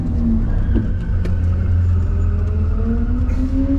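Loud, close engine note of a Datsun 1200 with an H89 head, held at steady revs while driving, with slowly rising harmonic whine over constant low rumble and no talking.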